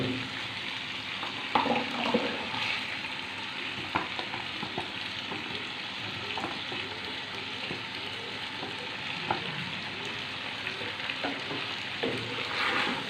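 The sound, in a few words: pasta being mixed into white sauce in a pan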